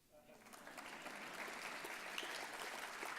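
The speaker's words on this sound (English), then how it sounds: "That's where you applaud." Faint audience applause rises during a presentation, a soft distant patter of clapping building over a few seconds and holding steady.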